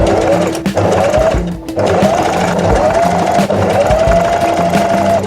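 A sewing machine stitches fabric for cosy winter pyjamas in loud, close bursts of rapid whirring, which stop briefly and then start again.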